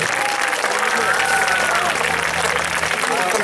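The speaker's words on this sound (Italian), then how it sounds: "facciamo un applauso ai nostri Armidiet." Audience applause at an evening talent show, a steady wash of many hands clapping from a crowd, with voices and faint tones mixed in underneath.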